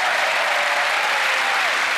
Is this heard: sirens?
no